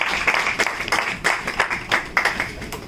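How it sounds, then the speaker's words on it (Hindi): An audience claps at a talk event, a short burst of close, fairly loud applause with distinct individual claps pulsing through it. "तो तालियां निकी जी के लिए"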